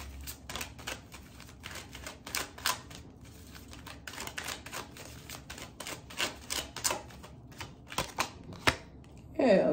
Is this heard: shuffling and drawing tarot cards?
yes